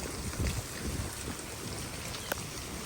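Steady rain hisses softly outdoors, a faint wash of falling drops with low rumbling gusts and a single brief tap near the end.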